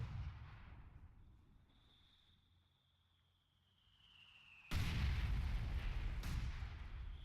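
In the Battle for Caen game, a distant mine blast and anti-tank gun fire roll out as low rumbling booms, with a whistling tone fading before a sudden loud heavy explosion and a second sharp hit.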